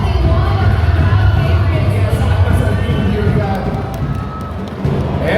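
Crowd at a beauty pageant roaring and cheering loudly, a dense wash of shouting and noise that swells and then eases slightly, with talk mixed in.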